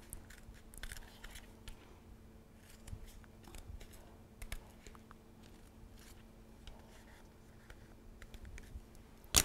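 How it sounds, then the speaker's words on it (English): Scissors snipping ribbon for a DIY graduation banner: quiet, close, scattered snips and light handling rustle with no talk. "Have your scissors. And make a snip"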